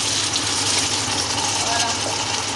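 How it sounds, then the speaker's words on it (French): Water pours into Adémédéssi sauce in a cooking pot: a loud, close, continuous gushing splash that holds steady from start to finish. "j'ajoute un peu d'eau"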